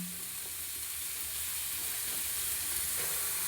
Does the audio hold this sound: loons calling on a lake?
no